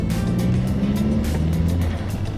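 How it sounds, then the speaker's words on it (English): A car with a hole in it on a test drive: a loud, continuous engine drone with road rumble, heard up close from inside the cabin, no talk. "We're just going to go for a bit of a test drive."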